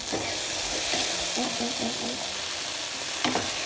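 Turnip (shalgam) cooks in a pan with a steady, fairly loud broadband sizzle, broken by a few scraping strokes of a spoon stirring it through the run, and one sharper scrape near the end.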